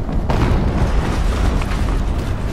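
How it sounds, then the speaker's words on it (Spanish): A deep, rumbling blast in the Horizon Zero Dawn video game booms low and heavy, with a sharp onset followed by a sustained roaring tail that fills the space. "Explosión"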